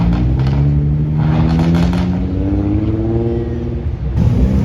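Audi with a V10 engine revving hard at a car show trackside, a loud, sustained engine roar with rising and falling pitch, close by and with no talk over it.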